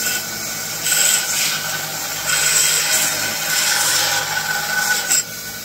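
Steady rasping scrape of a deburring tool cleaning burrs from drilled holes in a custom part, close and loud, in several strokes with brief pauses.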